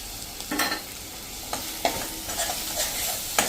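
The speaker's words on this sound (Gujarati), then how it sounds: "પેસ્ટને એકદમ મિક્સ કરી લેશું." Masala paste for a brinjal sabzi is stirred in a pan over a low flame, with a soft sizzle and a few scraping strokes of the spoon, close up and without any voices.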